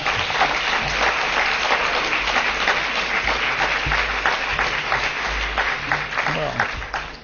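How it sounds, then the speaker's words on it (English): Audience applause fills the hall at the ESP Conference 2011 closing as someone is called to the stage: dense, loud, steady clapping sustained throughout, with a few voices mixed in. "I think the applause says enough."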